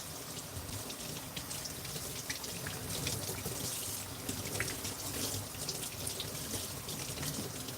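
Tap water pours and spatters over a plant being rinsed, a quiet, continuous splashing with small irregular drips and patters throughout, and no voices.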